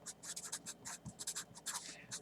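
Pen or marker scratching out a handwritten number during a math lecture, a quick series of short close strokes with soft scraping between them, with no talk.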